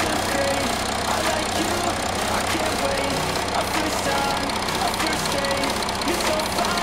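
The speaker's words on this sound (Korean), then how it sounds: "엔진 소리 일정하네요" Audi A6 C8 45 TDI quattro diesel engine idling with the engine bay open, a steady, even rumble with faint ticking clatter, constant in level throughout and close by, with no talking over it.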